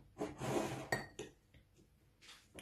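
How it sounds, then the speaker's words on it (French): Metal spoon stirring coffee grounds in a bowl, a few scraping, clinking strokes close by with short pauses between them. "Je mélange un petit peu."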